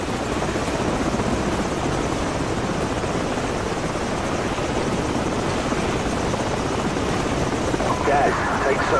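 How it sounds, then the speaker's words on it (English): Enemy helicopters in the video game Call of Duty: Modern Warfare give a steady, loud rotor drone that holds at constant strength throughout. The whine is broad and dense, with no clear breaks. "Enemy helicopters. It's gonna get real busy around here soon."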